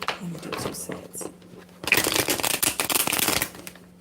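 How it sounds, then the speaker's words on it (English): A deck of playing cards being shuffled, soft riffling at first, then a louder, dense burst of rapid flutters and snaps near the mic, with a voice talking during the quieter opening part. "Before I couldn't shuffle, but now I can shuffle"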